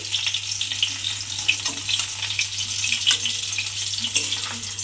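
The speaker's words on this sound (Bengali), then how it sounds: "একটু ভেজে নেব পনিরগুলো" Loud, continuous sizzling of paneer frying in hot oil, close up, with occasional crackles and a low steady hum underneath.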